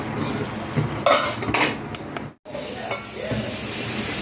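Chicken fry with curry leaves cooks in a pan, giving a steady sizzle and hiss with clinks of a metal utensil stirring and scraping against the pan, all close and fairly loud.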